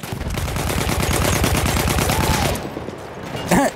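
Rapid machine-gun fire in a World War 1 video game: a dense, continuous rattle of shots, loud and close, fading after a few seconds into a brief louder burst near the end.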